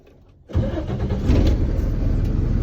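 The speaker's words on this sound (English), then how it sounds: "just turn the truck on, like I'm doing" A Freightliner Business Class truck's Cummins ISB 6.7 diesel engine with a fuel knock and misfire fault cranks and catches after a brief quiet moment, then settles into a loud, rumbling idle close by.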